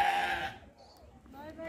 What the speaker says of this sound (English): Bye-bye, goat.